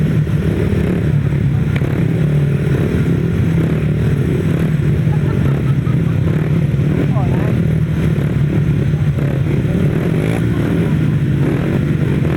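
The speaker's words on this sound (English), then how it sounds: "Revving up again then for the rerun of the 250s." 250cc solo grasstrack motorcycles rev loudly as a pack at the start of a race rerun, a continuous dense engine roar that holds steady throughout, with a commentator talking over it.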